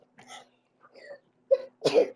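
Short bursts of a child sneezing and sputtering indoors, a few separate breathy puffs ending in one louder, fuller sneeze close by.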